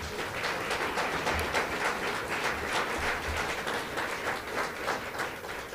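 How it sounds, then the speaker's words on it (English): Applause at a college's State of the College address, many hands clapping in a dense, steady patter across a large room, moderately loud and heard alone without speech. "That deserves a hand clap."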